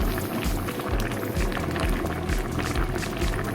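Water boils in a pot as the base for Thai boat noodle soup, a loud, close, steady bubbling and rushing that continues throughout.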